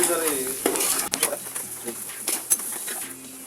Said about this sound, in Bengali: তো মরিচগুলা দিয়ে দেওয়ার পর আর কিছুক্ষণ জাল করে নিতে হবে